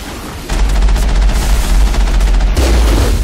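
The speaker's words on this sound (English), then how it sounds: "I can tell that the enemies on the bridge are shooting at me now" Sustained automatic gunfire from enemies on a bridge in a video game: a loud, dense rattle of rapid shots kicks in sharply and runs continuously, with a deep rumbling low end beneath it.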